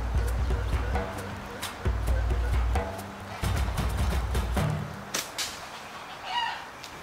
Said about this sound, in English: used that to tick off the rooster that was guarding him, and he came back out to defend the chickens